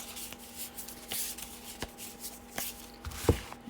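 Playing cards are riffled and shuffled repeatedly in quick bursts of papery flutter, close by, with a faint steady hum behind.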